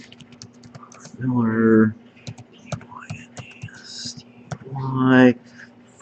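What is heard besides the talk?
typing on a computer keyboard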